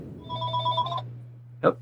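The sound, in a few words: telephone ringing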